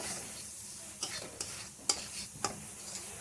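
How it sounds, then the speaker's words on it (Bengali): Spice paste for an egg and pointed gourd curry is stirred and fried in a pan, giving a steady soft sizzle broken by several sharp spatula scrapes and clicks against the pan. "মশলাটাকে ভালো করে কষিয়ে নিচ্ছি"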